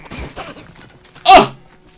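A short, punchy blast bursts out after a few quieter thuds, a sudden booming TNT explosion in the video game Minecraft Dungeons that fades quickly.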